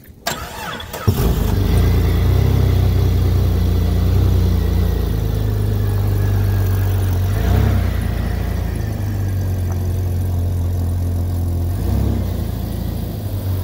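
A Jeep XJ project vehicle, a wrecked build, with its engine running loud and steady at close range, a rough idle holding throughout with a couple of brief swells in revs.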